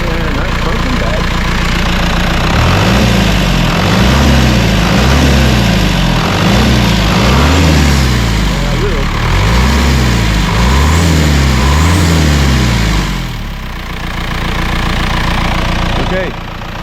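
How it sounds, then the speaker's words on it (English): A rough-running engine in a two-wheel and four-wheel drive truck with dual steering wheels idles and then revs in a series of rising and falling pulses, loud and close, before settling back down. "It's running. Let's rev her up a little."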